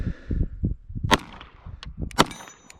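CZ P-09 pistol shots ring out at an outdoor range, two sharp reports about a second apart with a metallic ring and short echo, among lower thumps and handling noise.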